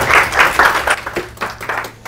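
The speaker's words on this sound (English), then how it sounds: "please give Alan a hand of applause and welcome" An audience applauds a speaker at a talk on indigenized Orthodoxy and salmon on the Nushagak River, a steady wash of clapping that swells in bursts and tapers slightly over two seconds.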